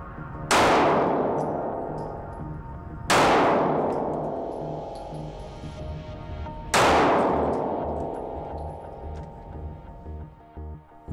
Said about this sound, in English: let's see how bullet-resistant glass and security window film protect against gunfire